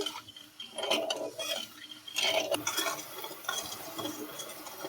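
Sugar being stirred in a pan as it melts into syrup for kathi goja, with spoon scrapes and clinks against the metal in an uneven rhythm, close and moderately loud with no voices.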